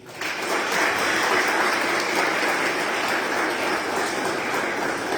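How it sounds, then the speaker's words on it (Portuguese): A church congregation claps together after a baptism at a communion service, a steady, even wash of many hands that starts abruptly and fills the room without a break, close and fairly loud. "Aplauda ao Senhor,"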